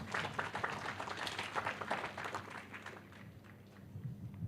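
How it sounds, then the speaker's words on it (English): Faint, scattered clapping from the crowd at a university graduation ceremony in Kenya, uneven and distant, tapering off midway before a few claps pick up again. "Let us give ourselves a loud of applause for this sterling achievement"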